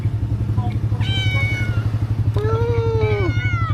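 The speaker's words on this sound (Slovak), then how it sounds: "Toto sú mačky z džungle." Jungle cats on Tioman island, Malaysia, give two drawn-out meows, the second longer and falling, close to the microphone over a steady low engine-like hum.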